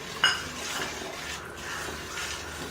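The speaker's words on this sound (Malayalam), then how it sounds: "നന്നായിട്ട് ഇളക്കുക." A spoon stirs wheat payasam in a metal pot, opening with one bright clink against the rim and then a soft, steady scraping swirl of thick liquid.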